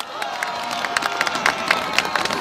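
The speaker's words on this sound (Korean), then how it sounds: "여러분들 힘찬 박수와 함성을 보내주시면 대단히 감사하겠습니다" A crowd at the opening parade of the first Jecheon ice festival claps and cheers, with shouts and whoops over dense clapping at a lively, steady loudness.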